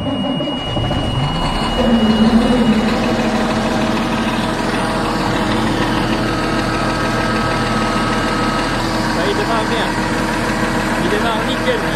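A diesel bulldozer engine, preheated after plugging in, runs at a steady idle in extreme cold of about minus 26, a continuous close rumble that firms up slightly after the first seconds, with people talking over it.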